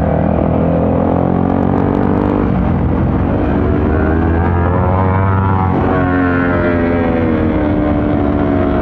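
A Yamaha WR155R trail motorcycle fitted with a Norifumi Rocket aftermarket exhaust runs loud and close, a steady deep engine drone with a rise in revs partway through.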